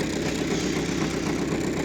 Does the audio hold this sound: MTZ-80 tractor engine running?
yes